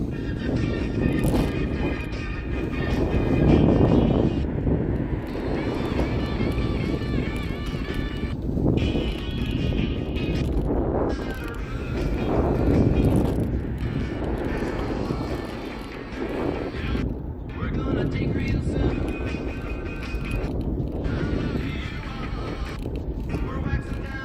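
Cars rush past nearby in several swelling whooshes, loud and fast, with wind buffeting the microphone and a person talking over it.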